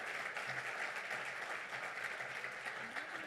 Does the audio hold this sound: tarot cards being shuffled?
no